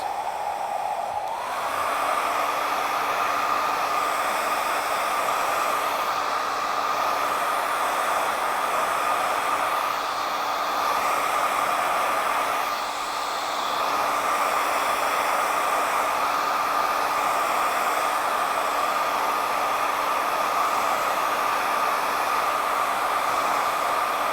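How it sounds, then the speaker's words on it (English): A hair dryer runs continuously with a steady, loud whooshing hum for the whole stretch, its pitch shifting slightly now and then. "you don't want to let the blow dryer singe the hair"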